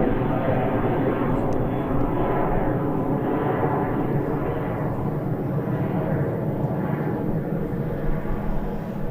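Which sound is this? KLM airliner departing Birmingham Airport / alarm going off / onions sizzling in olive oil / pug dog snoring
KLM airliner departing Birmingham Airport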